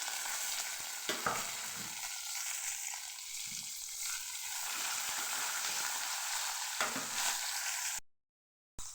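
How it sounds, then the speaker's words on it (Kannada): Onions and coriander fry in oil for chitranna, producing a continuous soft sizzle with occasional stirring scrapes and light crackles, fairly quiet and close, cutting out briefly near the end. "ಈರುಳ್ಳಿ ಸ್ವಲ್ಪ ಬೇಯಬೇಕಲ್ವಾ, ಅದಕ್ಕೆ ಈರುಳ್ಳಿ ಹಾಕ್ಕೊಡ್ತಾಯಿದ್ದೀನಿ."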